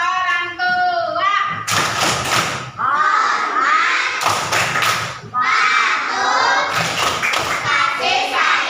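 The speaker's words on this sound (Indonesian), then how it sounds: "Tepuk tangan lagi yuk." A classroom group, apparently children, claps hands in bursts of quick, loud applause, with a teacher's voice and children's voices talking between and over the rounds.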